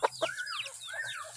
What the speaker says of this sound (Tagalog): So ito yung rooster natin.